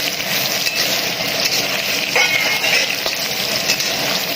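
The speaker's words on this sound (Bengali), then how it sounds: "আমি আজ আলু ভাজা করে নিই কাঁচকলাটা ভাজা করে নিই" Sliced potatoes and green banana fry in an oily pan, giving a steady close sizzle and crackle with a few faint clinks and no talking.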